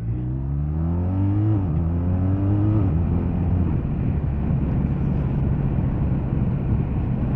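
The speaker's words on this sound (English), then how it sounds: "So we're in first gear, down the hill." A 2022 BMW R1250RT motorcycle pulls away in first gear down a hill, its engine note rising in pitch through two quick revving sweeps before settling into a steady, close, loud drone.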